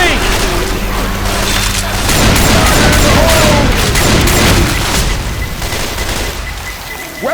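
Video game gunfire in a hurricane survival session, with dense, loud rapid shooting and booms filling the clip and voices shouting faintly underneath.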